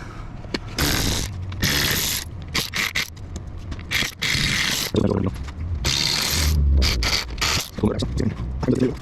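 A hand ratchet works on 7 mm bolts holding the lower shrouds of a Cadillac CTS-V bumper, producing loud, close, rapid clicking bursts with scraping, repeated in uneven runs throughout.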